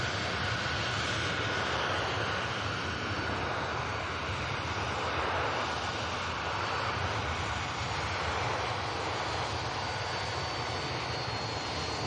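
An EasyJet airliner touches down smoothly at Manchester Airport, its steady, broad engine roar carried at a moderate distance for the whole stretch with no break and no voices.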